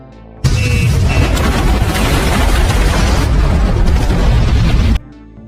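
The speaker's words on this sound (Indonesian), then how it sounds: "hingga terjadilah ledakan besar di bunker tersebut" A big explosion tears through an underground bunker, a loud sustained blast with rumbling debris that fills about four and a half seconds before cutting off abruptly, with no voices.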